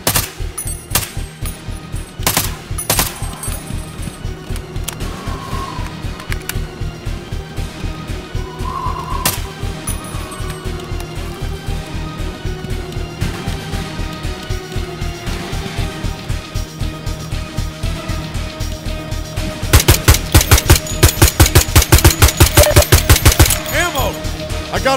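Gunfire in the Garry's Mod video game rattles in rapid automatic bursts with sharp cracks, keeping a fast steady rhythm throughout and growing denser and louder toward the end.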